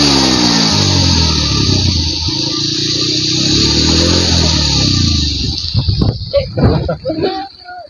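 A motorbike engine revs loudly and steadily up close, its pitch rising and falling in surges, then breaks into choppier bursts as it winds down.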